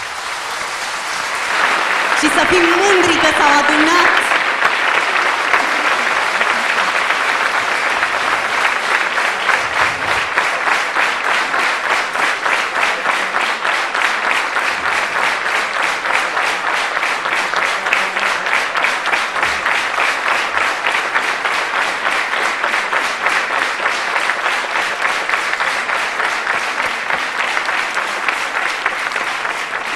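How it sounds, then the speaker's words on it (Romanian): A Christmas concert audience applauds the performers on stage with loud, sustained clapping that carries on steadily, while a presenter's voice speaks over the start. "Aplauze pentru ei."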